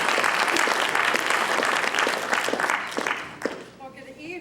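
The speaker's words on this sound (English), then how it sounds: "Let's give her a round of applause." Audience applause at an evening campus lecture event, a dense steady wash of clapping from a large crowd that tapers off near the end as a voice begins.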